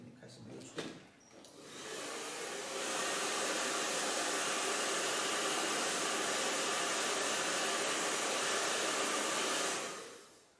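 A hair dryer roars on loud and close after a short bump, blowing steadily for about eight seconds over a Chinese ink landscape painting before switching off.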